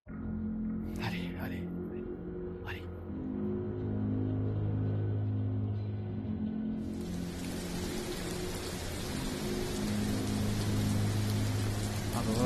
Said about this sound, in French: Il pleut, une ambiance incroyable.